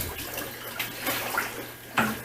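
Water spilling out the back of a Matsuda sock net holding a koi being bagged for a show, brief splashes and trickles in a few short bursts, close by with no voices.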